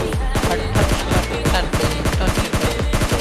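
Rapid, loud S12K shotgun fire in a mobile battle-royale shooter, dense repeated blasts in quick bursts throughout with no talking over them.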